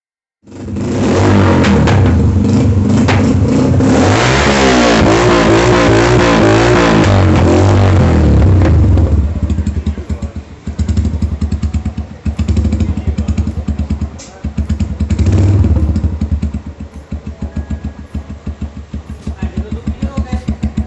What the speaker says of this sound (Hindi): अब मैं फाइनली आपको इसकी आवाज़ टेस्ट करा देता हूँ